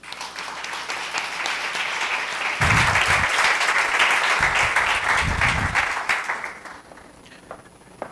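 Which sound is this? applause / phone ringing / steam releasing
applause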